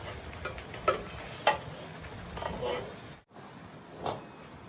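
Onion and tomato puree fries quietly in a pan while a spoon stirs and scrapes, giving a few sharp clicks against the metal over a soft, continuous sizzle.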